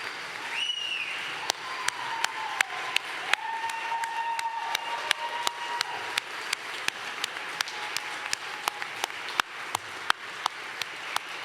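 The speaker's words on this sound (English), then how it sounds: "Please give a round of applause for all of our graduates." A crowd applauds graduates steadily in a large hall at a graduation ceremony, the clapping sustained at moderate loudness, with sharp individual claps standing out against the continuous patter.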